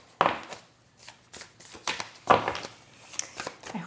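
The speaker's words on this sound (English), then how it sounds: "So let's shuffle up this Christina Ricci deck." A tarot deck is shuffled up close in a quiet room, with soft irregular riffling and tapping bursts of card noise.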